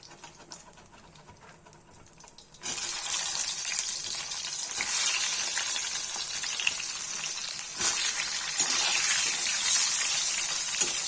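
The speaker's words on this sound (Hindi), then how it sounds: "बचा हुआ फ्राई करेंगे।" Leftover eggplant (baingan) pieces fry in a pan for a Kashmiri-style curry. After a quiet start, a sudden loud sizzle begins and continues steadily, with occasional stirring.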